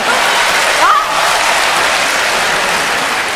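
A theater audience applauds a comedy sketch, loud dense clapping that holds steady throughout with a brief voice rising above it near the start.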